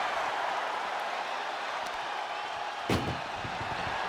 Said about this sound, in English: Shut the door and this match is over.